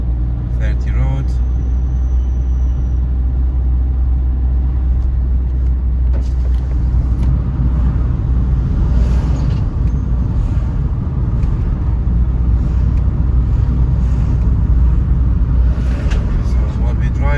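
Car driving along a road on a driving lesson route, a steady low engine and road rumble heard continuously beneath a person talking.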